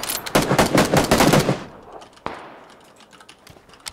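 Several players open fire at once in PUBG (Battlegrounds), a dense rapid rattle of overlapping shots for over a second, then a single sharp crack and scattered quieter pops as the burst fades.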